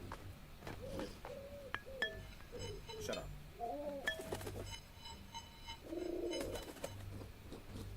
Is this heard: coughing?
no